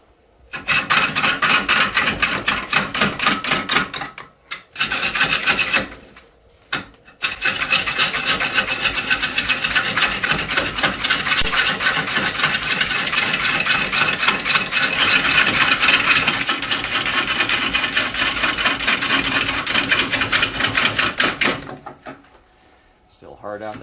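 A steady, harsh scraping hiss of a lathe tool cutting a very large, not-yet-round spinning wooden bowl, continuous with a few brief pauses, close and loud.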